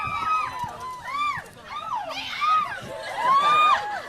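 An excited crowd of fans whoops and shrieks at a Divergent interview with Shailene Woodley and Theo James, with rising and falling cheers and high squeals layered over one another, loud and close throughout.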